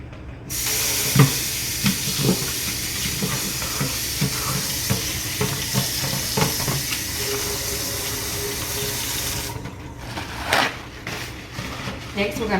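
Imitation crab meat is rinsed under a running tap, making a steady, soft water hiss for most of the moment. A person talks over it before the flow stops.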